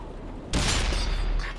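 A heavy tank gun fires in the World of Tanks video game, a single loud blast that hits abruptly and rolls on as a broad roaring rumble.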